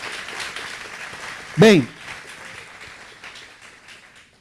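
A church congregation applauds during a Portuguese-language sermon, a steady wash of clapping running through the whole stretch beneath a preacher's brief loud vocal outburst.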